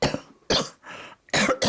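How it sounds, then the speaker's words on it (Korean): A woman coughs several times in quick succession, close and fairly loud, with short silent gaps between the bursts. "기침 때문에 연습을 제대로 못 하시네요"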